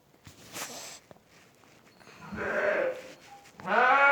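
Lambs bleating on a farm, with several calls of varying pitch, a loud, drawn-out bleat near the end and soft footsteps or shuffling in the background.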